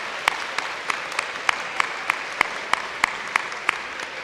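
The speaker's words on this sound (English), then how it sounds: "Please join me in another round of applause for all the students who were recognized today." Applause at a school awards day for recognized students, with a few distinct nearby claps standing out in a steady rhythm over a diffuse crowd clapping.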